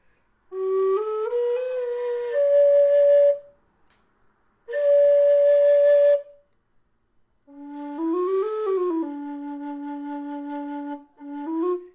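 Low D tin whistle played in three melodic phrases, breathy sustained notes stepping and bending between pitches, separated by short silences, close and clear with no talking.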